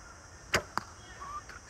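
Arrows are loosed from an H2 Tatar Pro laminated horse bow, three quick sharp releases in close succession, the first two crisp and loud, the third softer, with quiet surroundings and no talk.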